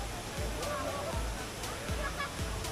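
A crowded Philippine waterfall 10 to 15 meters high pours in a loud, constant roar of crashing water that fills the whole clip, with faint crowd voices mixed into the noise.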